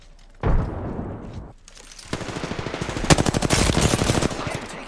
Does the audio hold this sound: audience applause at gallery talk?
no